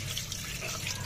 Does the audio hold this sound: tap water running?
yes